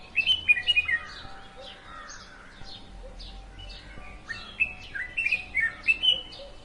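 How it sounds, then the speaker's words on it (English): Several birds chirp and tweet in short, bright, repeated phrases, fairly close and clear against quiet background, with a burst of calls at the start and another busier run toward the end. "Now I'm looking for some nature sounds like bird calls."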